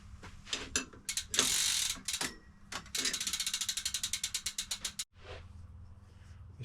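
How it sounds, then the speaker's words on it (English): A pedal spanner working a bicycle pedal off the crank while the bike is readied for winter, giving a run of loud, close ratcheting clicks in quick even bursts, with a metallic rattle between them and a short scrape at the end. "Got a pedal spanner."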